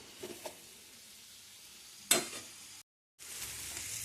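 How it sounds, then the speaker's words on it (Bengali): Steady hissing sizzle of onions frying in a pan until reddish-brown, with a sharp clatter of stirring midway, a brief silence, then the sizzle resumes. "পেঁয়াজটা একটু লাল লাল করে ভেজে নেব।"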